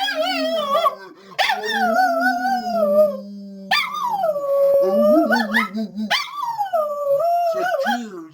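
A dog howls in long, drawn-out wavering notes, close and loud, in three rising-and-falling phrases with short whimpering breaks between them.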